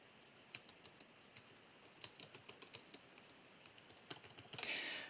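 Keys tapped on a computer keyboard while text is entered for a simple web page, a quiet run of irregular clicks that gather into a denser burst of keystrokes at the end.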